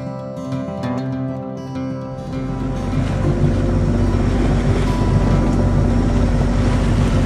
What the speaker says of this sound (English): we're actually sailing.